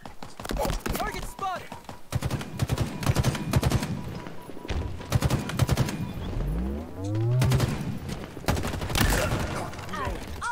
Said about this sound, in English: Nothing satisfies like a three-round burst.